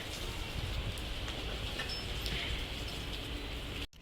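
Steady rain falling, a dense even hiss with soft pattering throughout, ending abruptly near the close.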